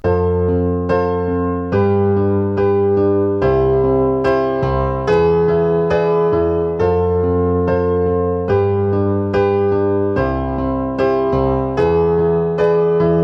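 Both hands at the piano play the chorus accompaniment of a song in C, with left-hand octaves under repeated chords in a steady, even rhythm, close and unbroken with no talking.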